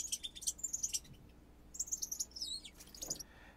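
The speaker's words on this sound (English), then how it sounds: "I have up here a bird chirping." A synthesized bird-chirp sound effect played from a keyboard: faint, rapid high-pitched chirps and trills in two bursts separated by a brief pause.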